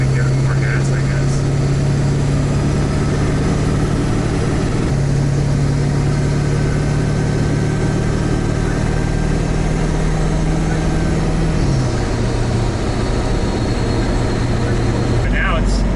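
A 7.3 Powerstroke diesel truck engine on 24-inch semi wheels drones loudly and steadily from inside the cab, its deep hum holding a constant pitch before dipping slightly near the end.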